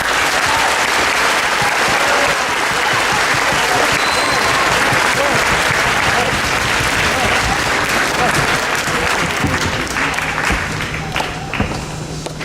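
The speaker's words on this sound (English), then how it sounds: "I'd like to give her another round of applause" A Veterans Day audience gives Captain Tourier another round of applause, a dense, sustained wash of many hands clapping loudly that tapers slightly toward the end.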